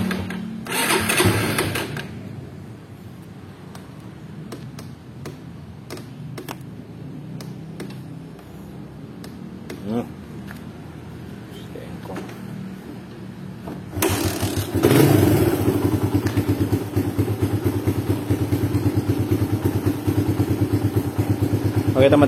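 Suzuki Satria FU motorcycle engine fitted with a PE28 carburetor, first a brief burst of engine noise, then quieter handling noises, then a steady loud running idle close by, with a voice talking in between.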